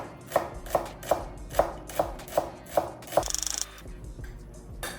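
A knife mincing shallot on a cutting board gives eight evenly spaced, sharp chops, followed by a quick burst of rapid rattling taps and then a quiet tail, close and clear with no speech.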